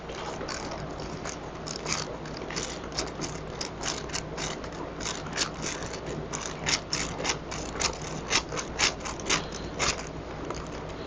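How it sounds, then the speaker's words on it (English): A hand ratchet clicks rapidly and rhythmically while unbolting the front brake of a bicycle being boxed, steady close metallic ticking that grows more pronounced toward the end, with no talking. "We need to unbolt the front brake."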